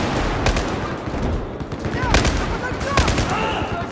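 Rapid automatic gunfire and scattered single shots in a Battlefield 4 campaign firefight, loud and close, crackling in short bursts with someone talking faintly underneath.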